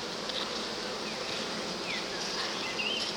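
Honeybees drone steadily in an open beehive during a hive inspection, a dense, continuous close buzz with no pauses, a few individual bees briefly rising in pitch as they pass near.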